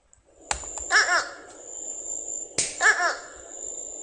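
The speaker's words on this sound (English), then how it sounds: "The fish crow says, okay" A fish crow gives two short, nasal two-note calls about two seconds apart, each preceded by a sharp click, over a steady high tone.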